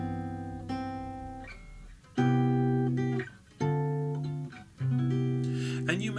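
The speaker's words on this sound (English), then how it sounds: "So this is the sound of drop 3 voicings." Four ringing guitar chords in drop 3 voicings, wider-spaced shapes struck one after another with a short pause between, each sustaining and fading, close and clear without speech.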